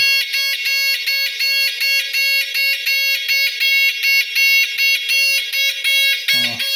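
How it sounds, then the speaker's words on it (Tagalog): A loud homemade earthquake alarm rings electronically in a fast, pulsing pattern, repeating steadily and close by, with a brief rattle near the end. "Yan ang ating DIY alarm."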